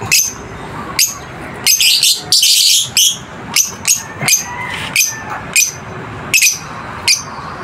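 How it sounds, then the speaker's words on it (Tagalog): African lovebirds kept in a backyard aviary give sharp, loud chirps close by, repeating in quick irregular bursts with a few brief clusters of overlapping calls. "Seloso tong mga African lovebirds na to"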